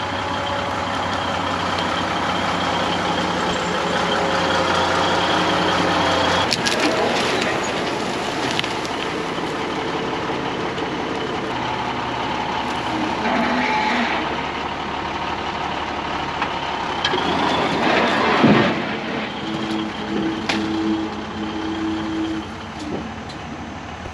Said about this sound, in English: The nice thing about this truck is the dump comes all the way vertical, so you can actually get stuff out